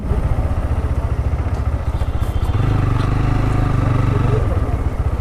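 A motorbike ridden through Sylhet on election day keeps up a steady, throbbing engine drone close by, growing heavier in the second half, with a voice briefly over it.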